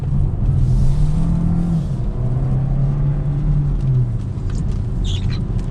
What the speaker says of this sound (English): put it in sport mode, do a quick acceleration right here